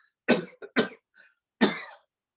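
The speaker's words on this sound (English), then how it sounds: "you do just a couple of coughs just to clear your throat" Two short coughs in quick succession, a brief pause, then a third stronger cough with a faint throat-clearing rasp, done as a breathing exercise; close and alone, no talking.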